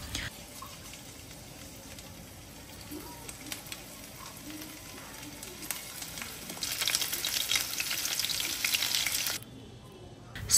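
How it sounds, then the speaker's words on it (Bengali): Pieces of chicken coated in cornflour sizzling in hot oil, a steady crackling fry that swells louder partway through before cutting off, close to the pan. "মেখে কর্নফ্লাওয়ার দিয়ে কোট করে ফ্রাই করে নিব।"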